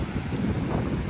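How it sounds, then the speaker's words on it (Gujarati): Large sea waves stirred by a strong current and stormy weather churn as a low, rumbling wash, heard briefly with wind buffeting the microphone. "આવી રીતના દરિયામાં ફૂલમ ફૂલ મોજા છે. કરંટના હિસાબે, વાવાઝોડાનો હિસાબે આ મોજા છે."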